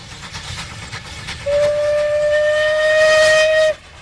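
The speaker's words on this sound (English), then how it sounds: "The British loved to preserve their old steam trains." A steam whistle on an old preserved British steam train sounds one long, steady, loud blast lasting about two seconds, rising over a background of faint railway noise.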